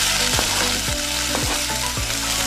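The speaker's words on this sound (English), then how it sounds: "And then once we heat up the oil, we'll put in the garlic." Finely chopped garlic fries in hot oil, a loud continuous sizzle with regular scraping strokes roughly twice a second.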